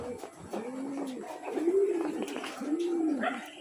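Pigeon cooing on a house roof, a quiet, fairly close series of soft rolling coos repeated in a loose rhythm, with faint background noise.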